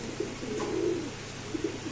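A racing pigeon held in the hand gives soft, low throaty coos, a couple of short murmurs and a longer rolling coo, close and quiet against faint background noise.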